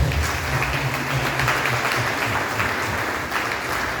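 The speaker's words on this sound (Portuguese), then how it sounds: "Palmas para Jesus, né?" A church congregation applauds steadily at moderate volume. The clapping is broad and even, with a low hum under it and no clear speech.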